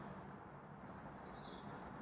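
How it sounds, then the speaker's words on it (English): Birds chirp outdoors on a quiet afternoon, a few thin high calls and short trills rising over faint steady background hiss, fairly distant and soft. "So nice to be outside and actually hear the birds singing."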